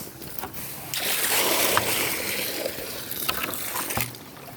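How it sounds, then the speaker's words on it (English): Bucket of water poured out into a trough for pigs on a farm, a sustained close splashing gush lasting a few seconds with a few knocks. "first bucket of water going in"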